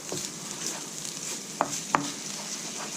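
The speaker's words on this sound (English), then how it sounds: "this mixture here, we're actually going to fry this for quite a while. Like, that's on a high heat now" Curry paste mixture for Burmese fried pork curry fries over high heat, a steady hiss broken by a couple of sharp spoon knocks against the pan.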